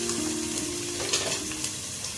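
Crushed ginger, garlic and green chilli sautéing in a pan for chicken majboos, a steady, soft sizzle close by with faint stirring scrapes throughout.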